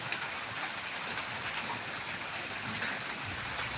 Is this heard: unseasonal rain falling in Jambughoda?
yes